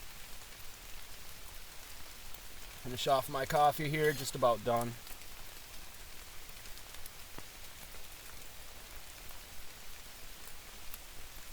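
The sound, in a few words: rain falling at a lean-to campsite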